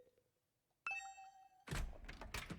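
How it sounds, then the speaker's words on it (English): A two-tone doorbell ding-dong chime in the video game The Hundred Line: Last Defense Academy, a clear, bright chime after a faint quiet start, followed by a soft door thunk and shuffling. "Ding dong. Oh, someone's here."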